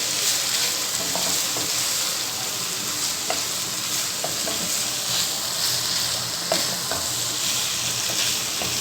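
Minced keema cooking with capsicum in a pan gives a continuous hiss of sizzling oil, broken by occasional scraping clicks as the mixture is stirred.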